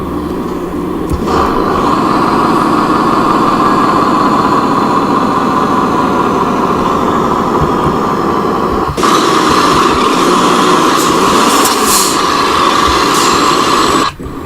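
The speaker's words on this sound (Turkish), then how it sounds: "ses neydi derseniz egzoz freniydi" Truck engine in Euro Truck Simulator 2 with the exhaust brake engaged, a loud steady droning rumble running throughout, briefly shifting character partway through with a louder, brighter roar.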